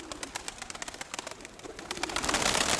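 Domestic pigeons coo softly in a loft, repeated low throaty calls with wing flutters and scratching, growing busier and louder toward the end.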